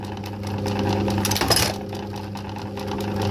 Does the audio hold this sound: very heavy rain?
no